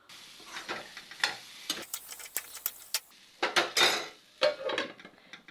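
A spoon scrapes and clinks against a pan while potato, chickpea and soybean curry is stirred, in irregular bursts over a faint sizzle, fairly quiet and without talking.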